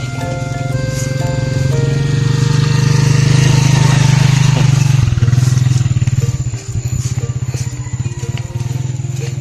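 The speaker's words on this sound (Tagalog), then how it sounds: "May motor." A motorcycle engine drones loudly nearby on a storm-damaged road, its steady hum swelling and then breaking into a rattling, uneven putter as it moves past.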